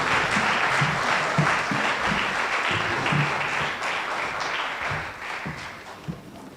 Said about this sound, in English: So round of applause for Cheyenne Landers and Emma Whitaker.